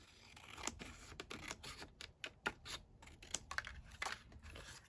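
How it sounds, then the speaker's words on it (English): Scissors snip paper down for a scrapbook-style journal page, a quiet run of short, crisp cuts and crinkles in an irregular rhythm, close by with no talk. "so I'm going to just cut that down."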